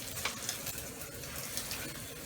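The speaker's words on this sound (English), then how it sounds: "you let the egg start browning just a little bit, you know, just frying it up" An egg fries for fried rice in a hot pan, giving a steady, close crackling sizzle that stays even and continuous throughout, with no talk over it.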